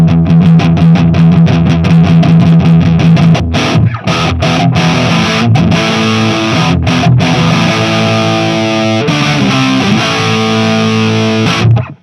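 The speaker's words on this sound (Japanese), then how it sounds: "マーシャル系ってだけあってとても歪みますね" Electric guitar played through a VOX Valvenergy Copperhead Drive tube preamp set for heavy Marshall-style distortion, loud and saturated, with sustained chords and then choppy stop-start phrases, alone with no talking.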